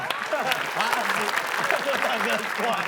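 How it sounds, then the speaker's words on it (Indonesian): Studio audience clapping on an Indonesian television game show, brief and steady, mixed with overlapping voices and cheering that sit clearly above the applause. "Tepuk tangan buat saya."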